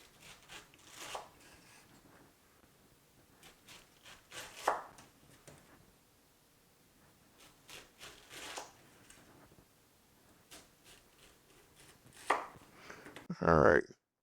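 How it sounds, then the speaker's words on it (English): A knife chops through a pineapple, cutting small sections beside the core in a series of distinct strokes spaced a few seconds apart, with a louder clatter at the very end. "So I can start really just cutting little sections"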